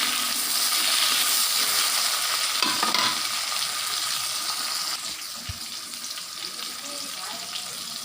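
Tomato and spice masala for a mustard-paste fish curry sizzles and fries steadily in a pan while being stirred, a loud continuous hiss with scraping stir strokes and a brief splash of water near the middle.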